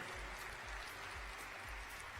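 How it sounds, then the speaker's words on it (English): Steady applause from an audience at the Mulespy Awards ceremony for the school's All-American athletes, a continuous wash of clapping throughout. "Let's get a round of applause for our All-Americans to this point"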